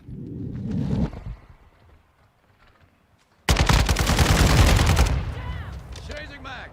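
Call of Duty Modern Warfare II combat: a loud, sustained burst of rapid RPK machine-gun fire starts abruptly after a near-silent pause. A shorter, muffled stretch of firing comes before it, and voices mix in faintly.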